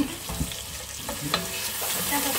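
A spoon stirs shallots and bell pepper in a hot frying pan, with soft scraping strokes over a continuous close sizzle across a short stretch.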